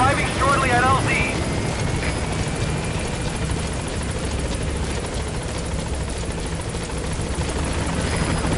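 Pequod's helicopter from Metal Gear Solid 5 arrives at a landing zone: a steady, loud rotor and engine roar holds throughout, with a brief whistling whine near the start and a voice over the noise.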